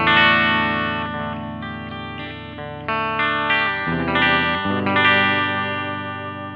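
A vintage electric guitar runs through a 1999 Fender Deluxe amp, ringing out chords with a chorus-like shimmer and light grit. It plays steadily and close, with a few changes of chord, and no voice is heard.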